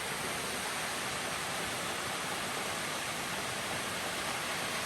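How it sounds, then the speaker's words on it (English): Piney Creek Falls at Fall Creek Falls State Park in Tennessee gives off a steady, even roar of falling water. The rushing hiss is constant and unbroken, with no voices heard. "This is Piney Creek Falls."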